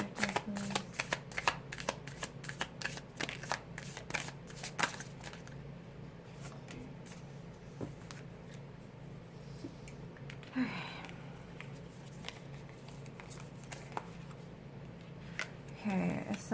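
Oracle cards are shuffled by hand in a quiet room, giving soft, close riffling and slapping bursts that come in uneven clusters, busiest early and then sparser with brief pauses, while a person speaks quietly at times.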